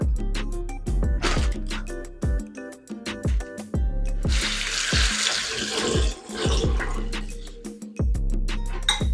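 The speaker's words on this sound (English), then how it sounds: "I'm gonna rinse my rockets now." Tap water runs over wild rocket leaves being rinsed, a steady splashing wash that comes and goes with short breaks as the greens are moved under the stream.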